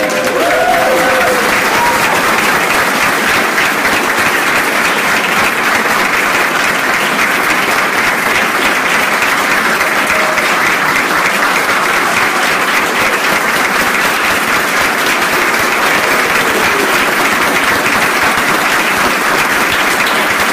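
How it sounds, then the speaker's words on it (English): Loud, continuous applause fills a hall at a doctor of physical therapy graduation ceremony for the class of 2019, many hands clapping in a dense, unbroken roar that holds steady for about twenty seconds. "If I get another hand of applause for the class of 2019."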